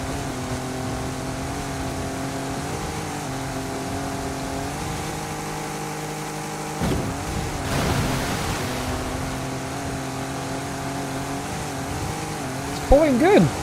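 A supercharged V6 with a factory 8-speed gearbox revs steadily in Forza Horizon 5, a sustained engine drone that dips briefly before climbing again, with a short louder burst near the end.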